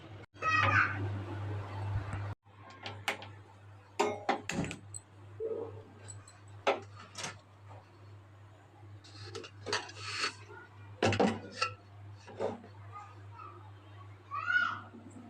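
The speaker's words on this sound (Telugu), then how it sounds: "స్టవ్ అయితే పెట్టేసాను" A pot is set down on a kitchen stove with metallic clanks and lid clatters, several sharp knocks spread over a steady burner hum while someone talks and children are heard nearby.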